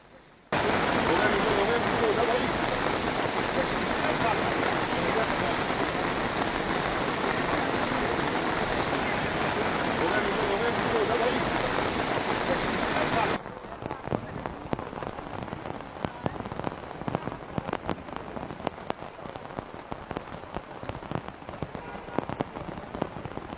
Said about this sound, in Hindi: संसद में बारिश हो रही थी